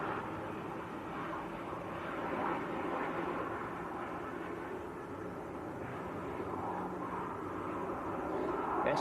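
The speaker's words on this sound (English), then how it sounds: "This is a good old Ryanair." Ryanair passenger jet at Manchester Airport, a steady broad roar of jet engines that swells slightly and holds for the whole stretch, heard from a distance with no voices.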